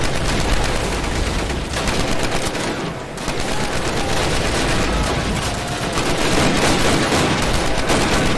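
Dense, continuous gunfire and explosions rage in the World War II shooter Call of Duty: United Offensive, a loud, relentless battlefield barrage of overlapping rifle and machine-gun shots with hardly any pause.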